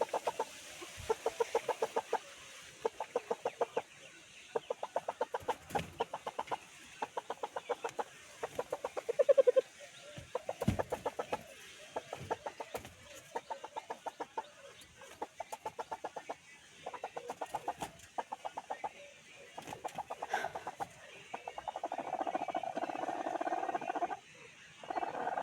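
A Tamil country hen clucks while laying her first egg, a long series of rapid, rhythmic clucking bursts broken by short pauses, close and moderately loud, ending in a more drawn-out, agitated call.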